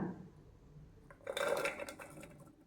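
Chopped pumpkin pieces with the skin left on tumble into a pressure cooker in one short burst of knocks and clatter against the metal, fairly quiet and with no talking.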